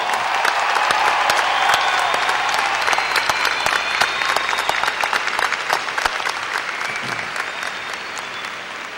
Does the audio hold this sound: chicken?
no